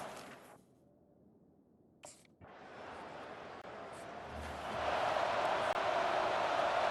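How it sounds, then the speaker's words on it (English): Large football crowd in a stadium during a college game, FSU versus Notre Dame, its broad roar swelling steadily louder over several seconds after brief quiet gaps, distant and continuous. "listen to this crowd roar"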